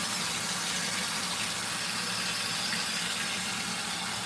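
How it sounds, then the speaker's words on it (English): Water rushing steadily into an LG ThinQ MEGA washer drum during a light wash cycle, a continuous broadband gushing hiss with no pauses. "I do believe it also fills up to the same water level as heavy wash and normal wash"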